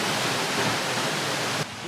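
An Icelandic waterfall with a walking path behind it roars as a dense, constant wash of falling water, loud and close, before cutting off abruptly near the end.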